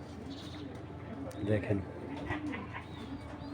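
Chuina giribaz pigeons coo softly in a brief pulsing burst in the middle, faint and close, with someone speaking over them.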